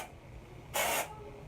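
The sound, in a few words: Suave dry shampoo sprayed onto hair roots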